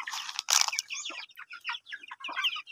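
Native chickens and young chicks cluck and chirp close by in a busy, overlapping run of short calls, with one loud burst near the start and no talking.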